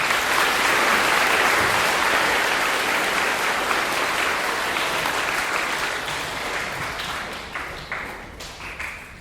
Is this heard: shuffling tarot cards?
no